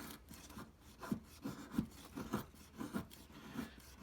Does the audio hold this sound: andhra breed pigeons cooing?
no